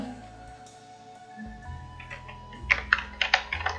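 Soft keystrokes on a computer keyboard, starting faint and building to a quick burst of several crisp taps near the end, heard close and alone over quiet room tone.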